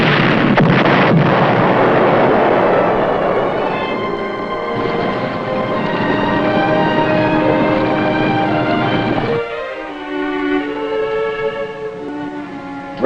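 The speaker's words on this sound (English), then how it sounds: "They're shooting up their own ship!" Heavy gunfire and explosions from a World War II naval battle, with a ship firing on its own vessel, roar as a loud, sustained barrage before dropping to a lower, rumbling continuation.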